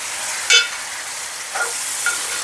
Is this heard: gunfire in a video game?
no